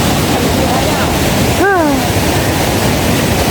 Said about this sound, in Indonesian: Warungnya di sebelah aliran sungai tuh